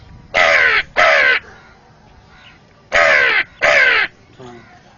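A human voice imitates a hill crow, giving four loud, harsh caws in two quick pairs separated by a pause, close to the listener with little else around.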